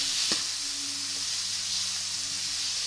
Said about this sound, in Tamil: ஸோ இது எல்லாமே நம்ம நல்லா எண்ணெயிலே வதக்க போகிறோம்.